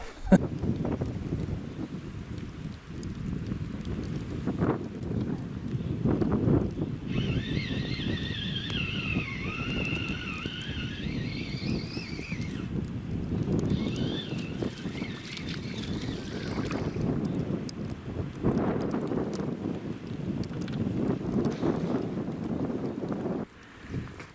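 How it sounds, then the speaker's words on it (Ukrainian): Steady blustery wind of a snowstorm with snow and rain roars and buffets the microphone throughout beside the Desna river, with a faint whistling tone partway through and muffled rumbling underneath. "Почалася така хуртовина, сніг, вітер і дощ."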